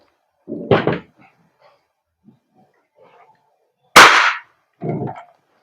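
An EMG Taran Tactical Pit Viper airsoft gas blowback pistol fires two sharp, close cracks a few seconds apart in a quiet room, each followed by a short rattling clack.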